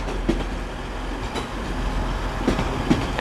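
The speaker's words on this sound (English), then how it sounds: "coming in now is going to be a Transpennine Express service to Saltburn" A TransPennine Express Class 185 diesel unit, 185116 leading with 185141 on the rear, pulls into Manchester Piccadilly with a steady low rumble and a few sharp clicks and squeals from the wheels.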